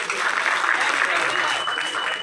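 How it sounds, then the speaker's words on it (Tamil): An audience at a Tamil movie audio launch event claps loudly in a brief, dense burst of applause. "நல்ல பலத்த கரகோஷம்."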